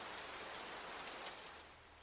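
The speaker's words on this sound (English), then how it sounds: "we have some rain sounds going on in the background" Steady rain falls on a surface as a constant soft broadband hiss with faint drop ticks, quiet and continuous throughout, with no talking.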